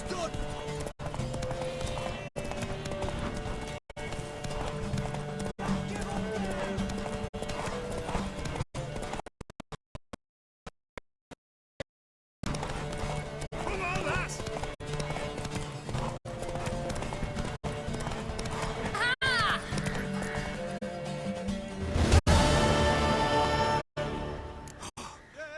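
A horse gallops in The Witcher 3, steady rhythmic hoofbeats with a neigh near the end, a brief silent gap partway through, and game dialogue spoken over it.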